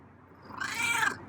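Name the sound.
feral cat meowing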